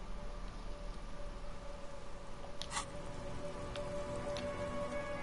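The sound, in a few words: rain ambience in the video game Disco Elysium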